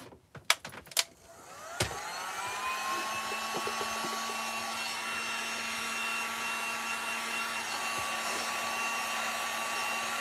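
A hair dryer blows steadily on a sea shell craft, starting with a few clicks and handling knocks before the motor whirs up into a continuous, close, even roar that runs to the end.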